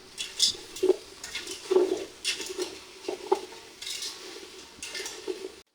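Apples cooking in a pan stirred now and then for a homemade apple cake, with repeated soft scrapes and clinks of a utensil against the pan over a quiet sizzle, no voices.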